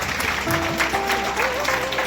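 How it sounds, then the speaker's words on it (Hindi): A crowd at a women's empowerment award ceremony at a panchayat gathering in Delhi breaks into brief, steady applause, with voices and tonal sounds mixed in. "एक बारी सभी मिलकर जोरदार तालियां हो जाए"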